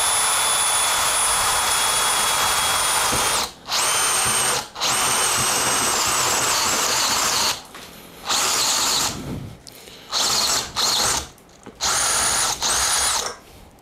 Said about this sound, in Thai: ปรับเป็นโหมดเจาะไป1 2 3